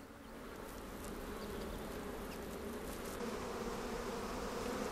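Steady, continuous buzzing of many native black bees in Scotland, a dense droning hum that stays even throughout with no voices.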